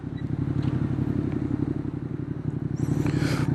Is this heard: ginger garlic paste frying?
no